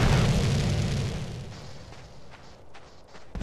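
A boat blows up in GTA San Andreas: a loud, deep blast that rumbles and decays over a few seconds, with faint clicks and another thump near the end.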